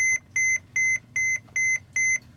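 A Mercedes Sprinter van's dashboard gives six short, evenly spaced electronic beeps, clear and close, over a low steady engine or cabin hum.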